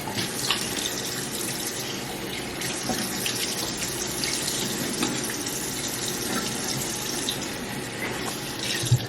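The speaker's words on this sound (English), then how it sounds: "I'm just gonna rinse it off." Running tap water pours steadily into a sink while skincare product is rinsed off the face, a continuous close splashing rush with small spatters and no talk.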